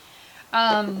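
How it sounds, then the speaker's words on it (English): A phone rings indoors in short buzzing tonal bursts, loud and close, starting abruptly after a faint quiet stretch. "Who is calling me at a no phone time?"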